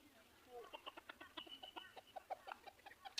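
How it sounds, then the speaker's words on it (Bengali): A free-range village hen clucks repeatedly in short, rapid bursts, close by and fairly soft, with a steady rhythm across the whole stretch. "এটা হচ্ছে দেশি মুরগ"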